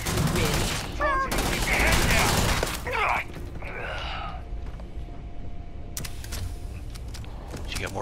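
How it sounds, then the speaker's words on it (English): Gunfire in the video game Starfield: loud bursts of shots and clattering effects in the first three seconds, then quieter game ambience with a few sharp distant cracks, with a voice talking over parts of it. "Shooting through the wall again?"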